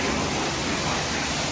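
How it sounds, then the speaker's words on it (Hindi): An automatic car wash sprays water over a taxi in the UAE, a dense, steady hiss of jets drumming on the car, loud and close for a short stretch with no speech. "ये गाड़ी वॉश हो रही है"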